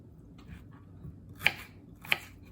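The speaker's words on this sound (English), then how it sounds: "I just need to slice this ginger to smaller chunks" Ginger being sliced into smaller chunks with a knife on a board, two sharp, crisp cuts about half a second apart standing out against a quiet kitchen background.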